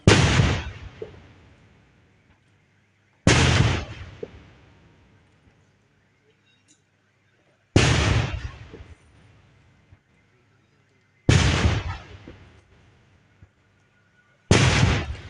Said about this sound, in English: 21 gun salutes were done in his favor.